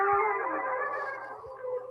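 A slowed-down seagull recording turned into a deep, groaning cry like a gorilla or whale, one long drawn-out wavering call that slowly fades, with a brief swell near the end.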